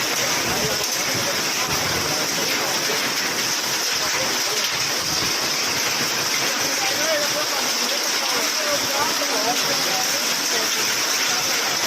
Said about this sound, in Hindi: पहली बारिश में ओले पड़ रहे हैं